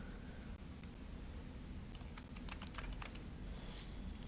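Quick bursts of keystrokes on a computer keyboard tap out in a short run against a steady background hiss, fairly faint and with no talking.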